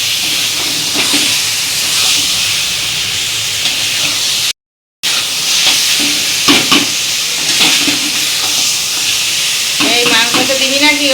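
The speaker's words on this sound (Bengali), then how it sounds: "একটু কষাতে হবে।" Mutton sautés in a pan with salt, turmeric and spices, giving off a loud, steady sizzle and hiss. Stirring scrapes are scattered through it, there is a brief dropout partway, and a faint voice comes through near the end.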